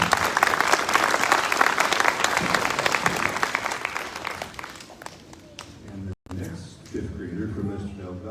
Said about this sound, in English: Round of applause for Wynn.